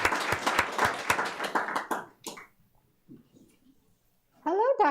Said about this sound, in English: I think it's okay to clap for them